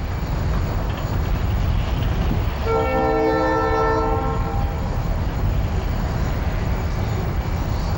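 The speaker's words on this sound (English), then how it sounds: "Engine 2220 is pulling a train of jumbo covered hoppers back to the valley." A CSX freight led by engine 2220, hauling jumbo covered hoppers in Florida's Bone Valley, rumbles steadily throughout while a loud multi-tone horn sounds a single long blast in the middle.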